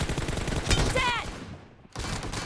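Video game gunfire, a short rattling burst of shots and sharp reports mixed with a voice, then a brief quieter gap before the game audio resumes.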